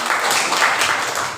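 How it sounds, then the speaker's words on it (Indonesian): A class gives a short burst of applause for the first student group in a school lesson, quick loud clapping that is close and continuous for just over a second. "Kasih tepuk tangan untuk mereka."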